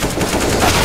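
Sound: gunfire in the video game CS:GO

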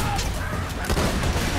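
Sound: gunfire from the video game Borderlands 2

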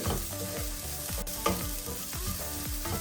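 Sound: stirring egg masala frying in a pan

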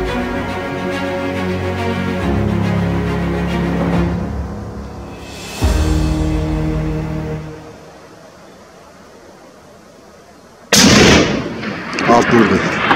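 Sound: rifle shot while hunting bezoar ibex

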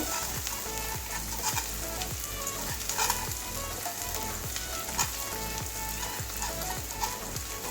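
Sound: frying and stirring masoor dal with fried onion and garlic

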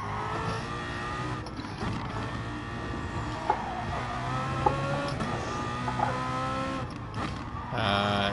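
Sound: BMW car engine powering away

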